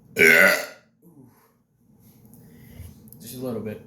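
A loud burp after drinking almond milk opens, long and rough, then a quieter stretch of throaty sounds and a second, softer drawn-out burp, all close up.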